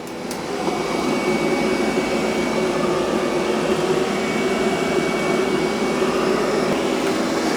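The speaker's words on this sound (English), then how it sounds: "It's been vacuuming for a little bit." A Roborock Q5+ robot vacuum cleaner runs with a steady, loud whirring hum and hiss that holds unchanged for several seconds after a brief ramp-up, with no talk over it.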